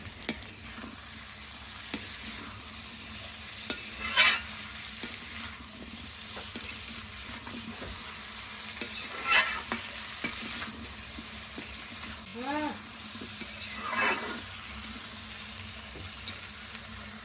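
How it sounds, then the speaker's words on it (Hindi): Vegetables sizzle as they are tempered in a hot pan over a wood-fired stove, with a steady frying hiss broken by a few louder spurts and occasional stirring scrapes, no voices. "तो सब्जी हमने छौंक दिया है।"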